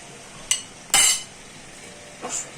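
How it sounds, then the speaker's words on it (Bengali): A utensil stirs turmeric and salt into jackfruit seed mash in a pot: a light tap, a longer bright scraping clink, then a softer scrape near the end, close and alone. "একটু নাড়া দিয়ে দেব।"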